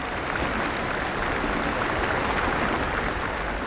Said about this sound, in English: as she drove away, the applause that had so marked Diana's funeral rang out